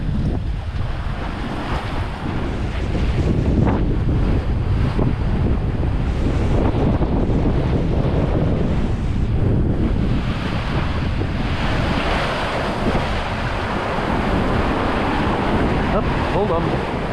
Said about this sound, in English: Jeez, waves got chaotic.